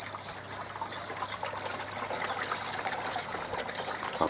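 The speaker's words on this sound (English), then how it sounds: "It'll be a trickle of water, but I'll spray it in so it can gas off as well" Water from a hose trickles and sprays into a koi pond, a steady close hiss and splash running throughout with no talking.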